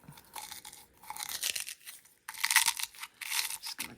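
Small decor filler pieces being crunched and pushed into place on a rusty bunny craft, giving crisp irregular crackling bursts up close, separated by short quiet gaps.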